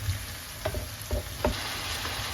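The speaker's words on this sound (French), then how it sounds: "j'avais fait revenir les oignons, j'ai rajouté les poivrons. Et là, je vais rajouter la viande hachée" Ground meat fries in a pan with onions and peppers, giving a soft, close sizzle broken by a few light stirring scrapes.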